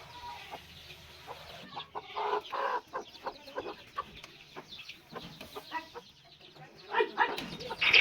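Chickens on a farm where newly hatched chicks and ducks are also kept cluck in short, irregular bursts, fairly close, with faint rustling around them and no speech.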